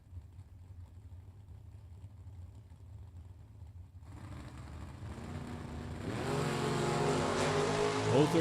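Ford Mustang and Chevrolet Camaro drag cars sit rumbling quietly, then swell louder and launch into a harsh, rising engine roar that climbs in pitch to the end.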